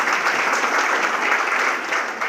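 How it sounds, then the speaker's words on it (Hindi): An audience at a village gathering gives the village head a round of vigorous applause, a thick, even wash of clapping from many people, loud and continuous. "उनके लिए जोरदार तालियां"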